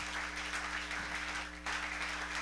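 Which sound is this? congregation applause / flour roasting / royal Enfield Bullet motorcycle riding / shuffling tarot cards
congregation applause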